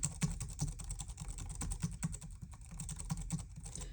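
Fast, uneven typing on a Logitech K580 membrane keyboard, a quiet flurry of soft clicks and thuds from nearby with no voices.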